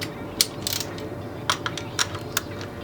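Torque wrench being cranked down on a bolt, giving a few close, crisp ratcheting clicks and short mechanical bursts spaced unevenly over a quiet background hum; no talk.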